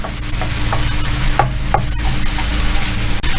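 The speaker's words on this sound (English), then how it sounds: "Just cook all the hamburger like so" Lean hamburger meat frying on a camp stove, a steady loud sizzle with brief scraping stirs from a spatula and a low hum of the burner underneath, no talking.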